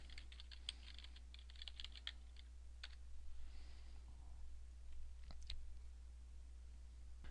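Computer keyboard typing: a group name tapped out in a quick cluster of light keystrokes, then a few scattered clicks, faint and close over a low steady hum.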